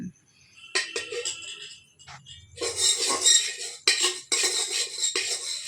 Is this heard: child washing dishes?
yes